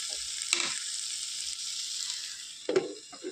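Tomatoes for a mushroom masala sizzle in a covered pan, making a continuous soft hiss with a couple of brief clinks, fairly quiet and with no one speaking.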